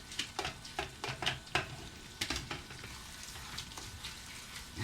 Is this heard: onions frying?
yes